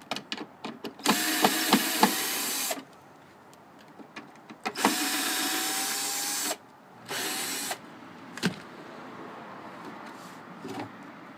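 A power tool drives bolts to mount a 10 lb ABC fire extinguisher in a 1997 Jeep, whirring in several loud bursts of a few seconds each, separated by clicks and handling noises.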